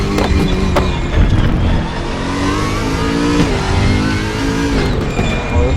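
A BMW Z4 race car in the RaceRoom racing game roars at high revs, its engine note rising and dipping as it accelerates. The sound is loud, close and continuous.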